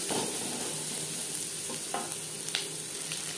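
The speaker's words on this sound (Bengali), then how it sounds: "পেঁয়াজ অবশ্যই লালচে করে ভেজে নিতে হবে" Onions frying in a pan give a loud, continuous close sizzle and crackle, with a few light scrapes of a spatula breaking through.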